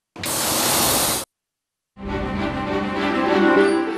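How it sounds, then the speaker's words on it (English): Two bursts of compressed air hissing out of an amusement ride's pneumatic braking system: a sharp, broadband hiss of about a second, a brief silence, then a longer, slightly rumbling release that keeps going to the end. "You can hear the hiss as the compressed gas escapes."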